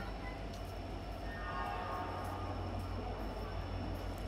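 The Howrah–Bokaro Steel City Express running, a steady low rumble of wheels and carriages with a faint squealing tone, continuous and moderately loud throughout.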